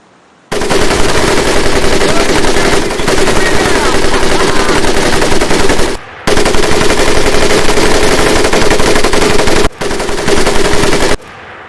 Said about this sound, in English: The other will fire the weapon.